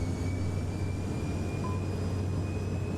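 Airliner jet engines at takeoff throttle in a flight simulator, an E-Jet spooling up at Toronto, giving a steady, loud, unbroken roar with a low rumble and faint high whine throughout.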